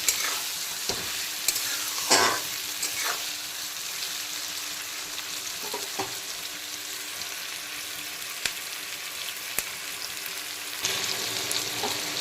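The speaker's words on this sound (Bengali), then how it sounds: "এখন আবারও 2 থেকে 3 মিনিট সময় নিয়ে টমেটো আর কাঁচা লঙ্কাটাকে ভালো করে কষিয়ে নিলাম" Tomatoes, onion and green chilies sautéing in a pan over a medium flame for a Kajli fish curry, producing a continuous close sizzle with occasional spatula scrapes and taps, no voices.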